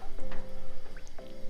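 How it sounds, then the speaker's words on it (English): Water is poured into a simmering Indian sea bass fish curry, giving short wet splashes and drips with bubbly, squishy liquid sounds, close and moderately loud, with no talking. "I'm just going to add some water"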